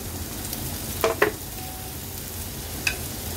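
White bitter melon is stir-fried with garlic in a pan, giving a steady close sizzle with a couple of sharp utensil scrapes and clinks as it is stirred, with no talk.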